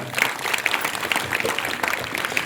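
A church congregation gathered for a Lent service claps loudly together, a dense sustained burst of many hands lasting the whole stretch with no pause.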